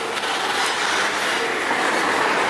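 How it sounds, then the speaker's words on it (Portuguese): An MRS freight train with Rumo helper locomotives climbs a grade at Cangueras, giving a loud, steady rail rumble and wheel noise with no talking. "As locomotivas do helper já devem estar chegando por aqui."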